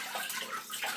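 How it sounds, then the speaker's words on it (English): Hot water gushes steadily from a tap into a sink in a small room, a continuous hissing splash with no pauses. "once I run some hot water into the sink"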